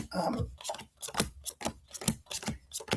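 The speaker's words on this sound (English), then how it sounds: "So I'm just going to quickly shuffle the cards" Tarot cards shuffled close up, a series of quick papery riffles and soft flicks coming in uneven bursts, fairly quiet, with no voice heard.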